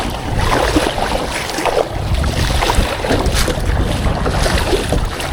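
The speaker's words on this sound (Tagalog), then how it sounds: "Kusog yung hangin." Strong wind on the water during kayak fishing roars and buffets steadily, loud and close, with a rushing, churning quality throughout and no pauses.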